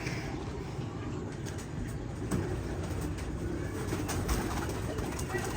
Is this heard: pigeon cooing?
yes